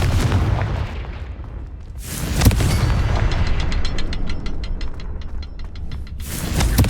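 Confringo, an explosive blasting spell cast in the Hogwarts Legacy video game, goes off in loud, deep booms, with a heavy burst near the start, another around the middle and a third at the end, each followed by rumbling decay.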